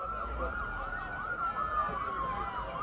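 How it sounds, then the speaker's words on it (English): Emergency vehicle sirens wail with a rising and falling tone in the distance, faint and steady behind a football game broadcast, with traffic noise underneath. "We got the sirens in the background."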